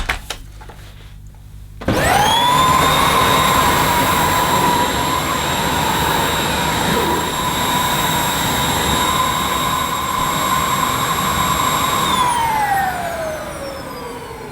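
A Dyson Cinetic Big Ball Animal 2 canister vacuum cleaner starts after a quiet moment and runs at a loud, steady, high-pitched whine, then begins to wind down near the end.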